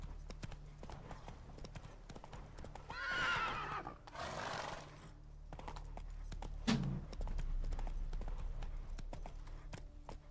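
In The Witcher 3 video game, a horse's hooves clip-clop steadily. A loud whinny rises in the middle and the hoofbeats continue after it, all against faint ambient game background.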